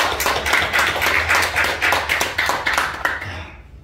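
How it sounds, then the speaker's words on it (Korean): A church congregation claps together in thanks during a year-end Sunday service, a dense, steady burst of hand claps lasting several seconds with a low organ-like hum beneath, fading out at the end. "우리 감사 박수 한번 하겠습니다."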